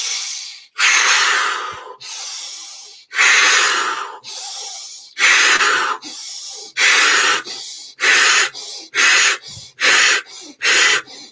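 Deep breaths during an energy exercise: a series of loud, close inhales and exhales, long and slow at first, then shorter and quicker in a steady rhythm.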